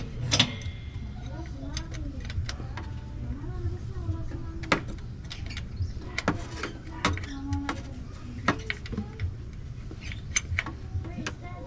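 An Allen wrench and 10mm tool tighten the transmission plug on a Mitsubishi Xpander, producing scattered close metallic clicks, ticks and scrapes in an irregular rhythm, with someone talking throughout.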